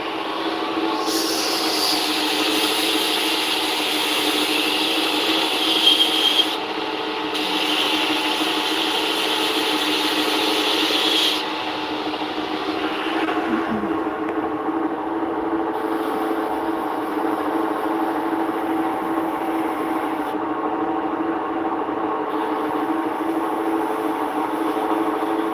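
A belt grinder shapes and sharpens the bevel of a knife blade, a continuous loud abrasive whine and hum. The bright grinding hiss comes and goes in bursts as the blade touches and leaves the belt over a steady motor drone.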